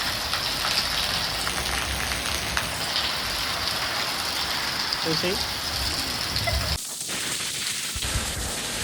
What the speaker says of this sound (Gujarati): જબરજસ્ત વરસાદ આવે છે મિત્રો